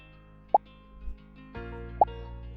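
Two short cartoonish plop sounds from a Scratch sprite bouncing off the edge, evenly spaced, pop out over a faint background of sustained musical tones.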